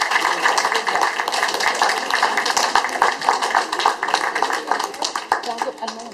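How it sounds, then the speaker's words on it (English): Audience clapping for children after their Ramayana play at a Diwali event, a brisk scatter of claps mixed with voices and room chatter. "Big round of applause for them."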